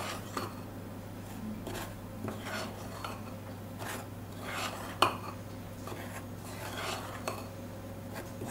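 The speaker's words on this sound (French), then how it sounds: "Et on mélange avec la levure." Cake batter mixed with baking powder in a bowl for a grandmother's cake, giving faint, repeated scraping and clinking strokes of a utensil with one sharper knock.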